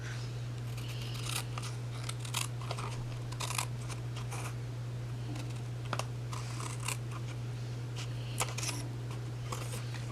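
Scissors snip in a run of quick, crisp cuts, trimming excess paper off the back of a Stampin' Up! gingerbread haunted house card. The cuts come in short bursts over a steady low hum.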